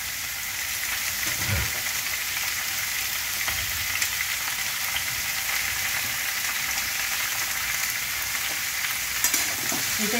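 Sweet potato, pumpkin, eggplant and potato fry in a pan and get stirred, giving a constant, close hiss and sizzle with a few soft scraping stirs and light knocks, no voices.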